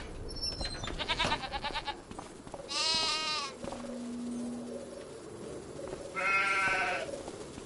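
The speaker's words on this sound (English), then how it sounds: "And here's my sheep and goats" Sheep and goats bleat in the Farming Simulator 25 video game on a farm in Scotland, several wavering calls spread across the stretch, some loud and close, with a low hum from the game between them.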